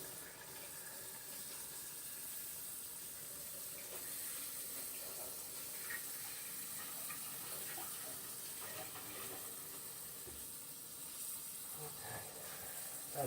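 Steady running tap water with a broad hiss throughout while hands are washed in a kitchen, continuous and fairly close with no pauses.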